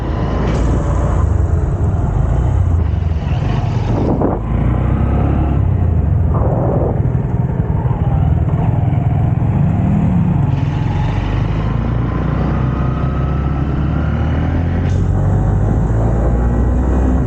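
A Honda CB125F motorcycle accelerates on a test ride, its small engine droning loudly and steadily with repeated rising pitch sweeps as it climbs through the gears.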